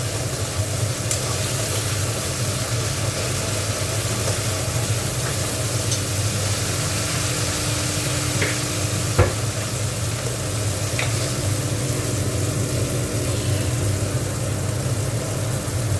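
Ginger frying and being stirred in a pan for a vegetarian cauliflower roast, a steady close sizzle with soft scraping stirs running throughout, one brief sharper knock midway, no voices.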